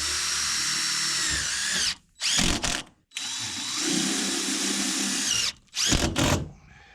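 Power drill driving screws into new tin roofing on an old barn, whining loud and close in long sustained runs broken by short pauses and quick bursts.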